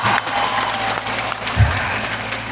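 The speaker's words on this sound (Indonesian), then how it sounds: "Tepuk tangan." An audience at an Islamic sermon claps together on cue, a dense steady applause with a low rumble beneath, filling the space without speech.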